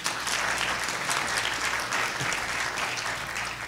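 A crowd at a public forum applauds to show support for eliminating some townships, producing dense, steady clapping that stays loud for the whole stretch.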